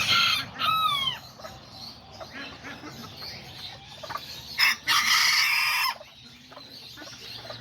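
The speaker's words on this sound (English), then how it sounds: "All the mom chickens with the babies." Mother hens and chicks cluck and chirp nearby while a rooster crows on a rainy day, with a few loud bursts of crowing standing out over the farmyard background.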